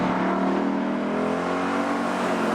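A Ford Mustang Boss 302 V8 engine holds a steady, loud, throaty drone with a slight rise in pitch, running continuously without pause.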